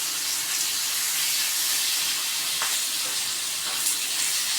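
Masala sautéing in a pan for chana butter masala, a steady, loud, dense sizzle and hiss with faint stirring scrapes, no voices.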